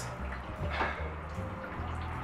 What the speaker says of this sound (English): Look at this little dribble ass goddamn water.